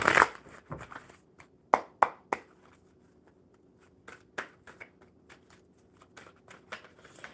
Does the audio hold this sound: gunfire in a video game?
no